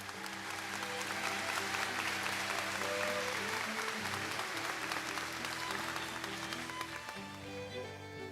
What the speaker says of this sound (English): Let's give them all a big, big round of applause.